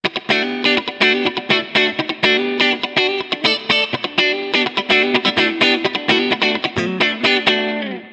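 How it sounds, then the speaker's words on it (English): Shergold Telstar electric guitar played through distortion and chorus effects, a dense, loud, continuous run of strummed and picked chords with steady rhythmic attacks. "when you start to play kind of funky stuff and you dig in a bit harder, the pickups kind of go a little bit more Telecaster-esque"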